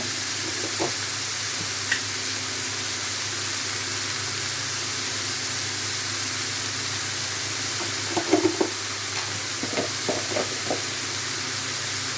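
Bitter gourd and prawn bhaji sizzling in a pan, a steady frying hiss throughout with a few soft scrapes and clicks of stirring, heard close and alone without speech.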